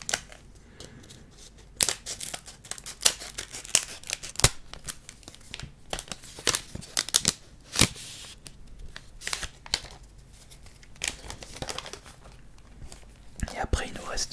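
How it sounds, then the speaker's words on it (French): A Pokémon card booster pack is torn open and crinkled up close in an ASMR setting, with dense crisp rips and rustles scattered throughout under soft whispering. "on va ouvrir le booster suivant"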